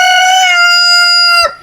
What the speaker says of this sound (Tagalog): Kaya ipinasok ko na lang dito yung mga manok natin